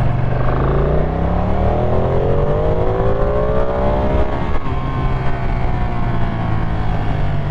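A Ducati Panigale V2 motorcycle accelerates hard, its engine note rising steadily through the revs, dipping briefly at a gear change and climbing again, loud and continuous with steady rushing wind underneath.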